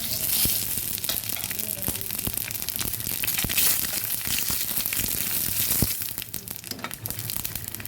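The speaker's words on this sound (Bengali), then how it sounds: "এটার মধ্যে আমি আরও কিছু তেল দিয়ে দিয়েছি দিয়ে দিচ্ছি একটা তেজপাতা আর দিয়ে দেবো রাঁধুনি আর জিরে ফোড়ন" A bay leaf, radhuni and cumin seeds dropped into hot oil crackle and sizzle loudly, with dense spitting pops over a continuous frying hiss that eases slightly near the end.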